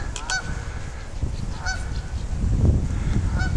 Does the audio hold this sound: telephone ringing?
no